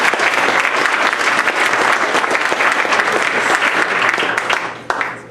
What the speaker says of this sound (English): let's give Arcata High School just a round of applause for that